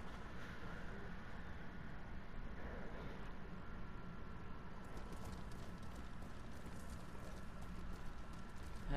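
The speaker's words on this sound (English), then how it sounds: "Alright, let's go on these horses." Horses' hooves galloping across terrain in the video game Ghost of Tsushima, a continuous rhythmic drumming of hoofbeats over a low rumbling game soundscape, with a faint high tone fading out partway through.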